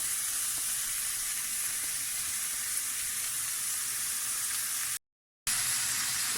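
Carrots and onions sizzling in a hot pan, a steady bright crackling hiss close up, cut off by a brief silent gap before resuming.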